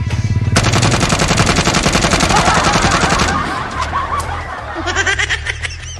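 Loud bursts of rapid gunfire from guns in a comedy skit, continuous for about three seconds and then fading, with laughter and chuckling mixed in near the end.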